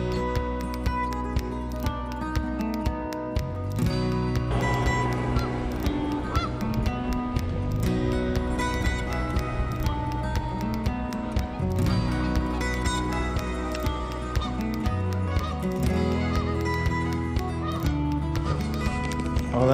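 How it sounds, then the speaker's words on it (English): Flock of geese honking loudly and continuously, with splashing as they hit the water near a bass fishing spot, a dense sustained chorus throughout. "Them geese did not like that lab running down there. They all hit the water."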